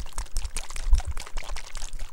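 A bottle of MAC Face and Body liquid foundation is shaken hard, its thin watery contents sloshing in a steady, close, continuous rattle with no talking.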